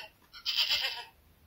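A single short, nasal goat bleat, close and moderately loud, lasting under a second with quiet before and after.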